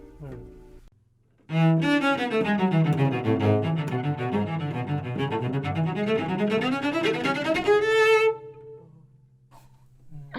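A cello plays a faster piece up close, a sustained run of rich bowed notes moving quickly across registers, rising clearly out of a quiet room and stopping abruptly.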